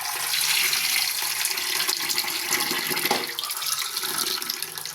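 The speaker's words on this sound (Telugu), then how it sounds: "కొన్ని శుభ్రంగా కడిగి నానబెట్టేద్దాం." Lentils and rice are rinsed under a running kitchen tap, water splashing steadily into a bowl from start to finish, close and fairly loud with no voices.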